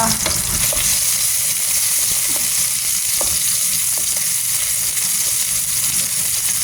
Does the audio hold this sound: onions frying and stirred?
yes